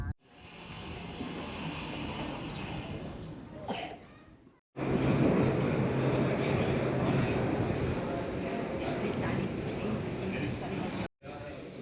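A train rumbles past on a weekend rail trip from Germany through Switzerland to Italy, a loud, steady rushing roar that cuts out briefly partway through and then returns even louder and close.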